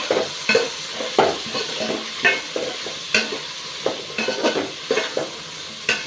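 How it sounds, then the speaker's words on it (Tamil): Tomatoes sautéing in a pan for Chettinad fish curry, with a steady background sizzle broken by repeated sharp spoon-against-pan scrapes and clinks as the mixture is stirred, close and fairly loud, no talking. "இந்தளவுக்கு நல்லா தக்காளி போட்டு நல்லா வதக்கணும்"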